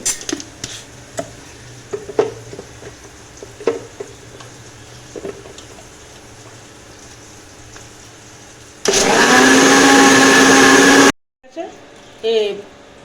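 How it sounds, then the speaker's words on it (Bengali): An electric grinder whirs loudly for about two seconds, blending garlic and ginger into a paste in a kitchen, a steady high-pitched motor roar that cuts off abruptly, followed by a brief short burst; quiet kitchen clatter and faint talk precede it. "এটাকে আমি এবার একটুখানি পেস্ট করে নেব। এটা একটুখানি ঘুরিয়ে নিচ্ছি।"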